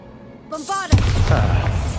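Bombarda blasting spell in Hogwarts Legacy, a loud close boom erupting after a brief rising magical shimmer, followed by rumbling debris that fills the rest of the moment.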